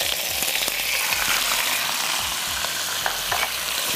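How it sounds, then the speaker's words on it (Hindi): Boiled chicken is lightly fried in a pan, producing a loud, constant sizzle close by, with faint low knocks from the pan and stirring and no voices. "अच्छा पहले चिकन डालकर थोड़ी सी आप उसकी भुनाई करेंगे फ्राई करूँगा हल्का"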